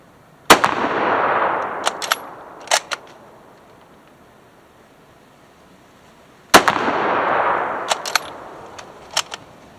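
Two sharp, loud rifle shots from a 1943 Lee Enfield fired outdoors, each followed by a long rolling echo and a few quick metallic clicks of the bolt being worked, spaced about six seconds apart with no talking.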